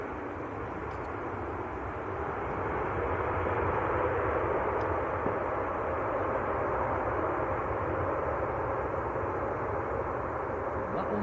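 Continuous broad roar of an airplane landing at Manchester Airport, a steady jet rumble and wash heard from a distance that swells slightly midway and holds.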